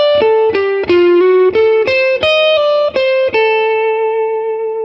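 An electric blues guitar plays a lick over D dominant 7 with an implied diminished passing chord, with a run of distinct picked and slid notes that ends on a held, ringing tone, loud and close, with no one talking.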